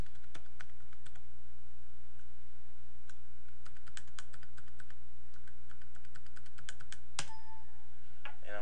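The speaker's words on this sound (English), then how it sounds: "And I'm going to enter in my password." Fingers tap out a password on a computer keyboard, a quick irregular run of crisp key clicks over a quiet room hum, with a sharper key press near the end.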